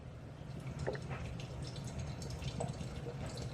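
Beer poured into an oversized glass at an Oktoberfest-style tasting: a faint, steady liquid fill with light splashing and dripping runs for several seconds, with no talking.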